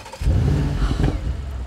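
Audi RS 6 Avant engine starting up: after a brief quiet moment it catches with a loud, close burst of deep rumble, then settles into a throaty, uneven idle.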